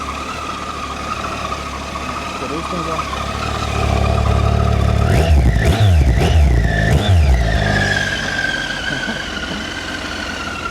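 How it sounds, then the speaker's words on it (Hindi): A triple-cylinder motorcycle starts up and runs nearby, a low steady engine drone with a few quick throttle blips rising and falling in pitch, then settling back to idle; a voice speaks briefly. "ये ट्रिपल सिलेंडर बाइक है, इसके 3 सिलेंडर्स हैं"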